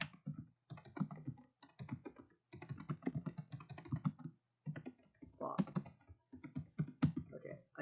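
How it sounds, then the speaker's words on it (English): Tapping on a computer keyboard in bursts of quick keystrokes with short pauses between them, close and fairly quiet. "type in my name is Bob"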